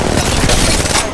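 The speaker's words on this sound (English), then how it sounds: "Shots fired and they're hitting me." Rapid gunfire from Apex Legends Mobile, a mobile battle royale shooter, fills the moment with dense, continuous bursts of shots that stay loud and close and sit over a busy game mix.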